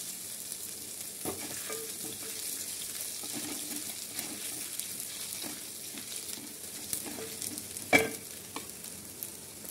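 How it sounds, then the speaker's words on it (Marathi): Garlic-ginger paste frying with cumin and mustard seeds in a pan, a steady soft sizzle with scraping stir strokes and a sharper clank near the end, no talking. "लसूण अद्रकचा पेस्ट, अशा प्रकारे चांगलं भाजून घ्यायचं।"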